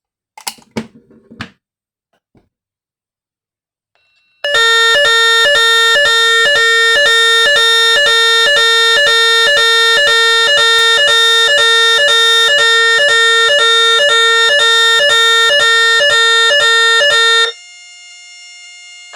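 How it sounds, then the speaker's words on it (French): A BAAS SaMe NUG31184 evacuation unit sounds its fire alarm siren, a loud, steady, rapidly pulsing electronic tone that runs for about thirteen seconds after a few faint clicks, then drops to a quieter lingering tone. "donc la sirène, puis le message, et ensuite ça s'alterne"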